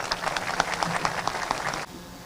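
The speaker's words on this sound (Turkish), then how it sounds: "çok değerli alkışlarınızla Gürsü Belediye Başkanı Sayın Mustafa Işık'ı sahneye davet ediyorum." An audience applauds as the Gürsu mayor is invited onto the stage at a ceremony opening new municipal facilities. The steady, dense clapping runs for about two seconds and then cuts off abruptly.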